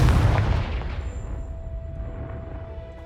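Confringo spell in Hogwarts Legacy blasting apart a pile, a single loud, deep boom that hits at once and then rumbles away over a few seconds into a thin ringing tail.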